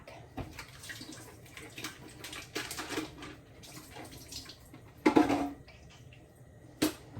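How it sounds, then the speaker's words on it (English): Liquid drained from a slit tofu package splashes in short irregular bursts, with a louder pour near the end, close and fairly quiet, alone without talk. "I just cut 2 slits in this, and then I drain it"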